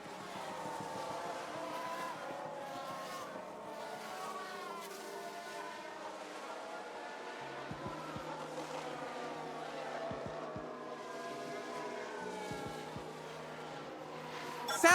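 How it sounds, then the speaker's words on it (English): Formula One race cars from the 1994 season in the F1 Manager 22 racing game, engines whining at high revs in a steady droning blend with shifting pitch as a car spins out on track, without commentary. "Sounds like we've had a spin."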